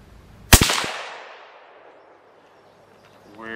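A single sharp rifle shot from a Remington 700 ADL firing custom .223 handloads, a loud close crack with a long decaying echo across an open range, then quiet until faint rustling near the end.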